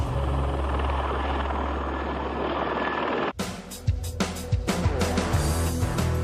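Loud, continuous helicopter rotor drone close by that cuts off abruptly midway, followed by scattered clicks and knocks.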